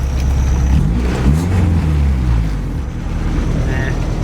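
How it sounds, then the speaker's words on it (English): A car engine, just fitted with a bigger test pipe to fix a massive exhaust leak, runs loud and close with a steady low rumble that swells briefly in a quick rev near the start before settling back. "I guess we'll see right now when we rev it."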